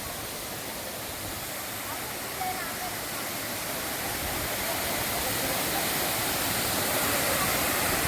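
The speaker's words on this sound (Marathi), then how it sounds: "आणि हा आपला सावडाव धबधबा" Savdav waterfall in Kankavli pours in a continuous broadband roar that swells slightly louder toward the end, with faint crowd voices mixed into the rushing water.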